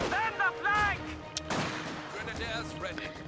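Gunfire and artillery booms in the real-time strategy game Company of Heroes 2, sharp cracks and thumps scattered across the clip amid battle noise, with a voice speaking near the start.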